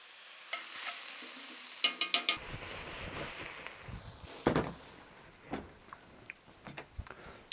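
Onions cooking over an open fire make a soft, low-level sizzle and crackle, joined by a cluster of sharp clinks and scraping utensil knocks, with no talking.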